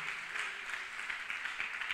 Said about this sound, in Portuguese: Pode aplaudir muito forte,